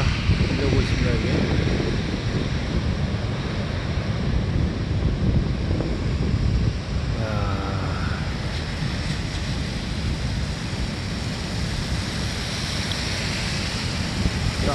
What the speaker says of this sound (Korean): 엄청난 파도가 흔들고 있습니다.